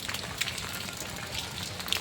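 Steady monsoon rain during Sawan falls across the whole stretch as a dense, even hiss with scattered louder drops, and no voices are heard.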